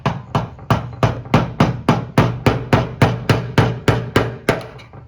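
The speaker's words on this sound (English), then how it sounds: "Take your hammer and you just tap it." A hammer taps the metal fuel tank ring of a 1991 Buick sharply about fifteen times in a steady, even rhythm, each hit ringing briefly, close by with no talking.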